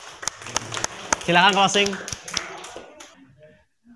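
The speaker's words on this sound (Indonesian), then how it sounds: "Tepuk tangan." Classroom applause during a physics teaching practice session, a few scattered claps from a small group mixed in with a voice talking nearby, fading out near the end.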